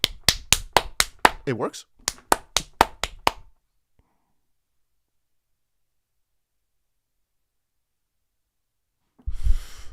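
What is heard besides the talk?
one person clapping hands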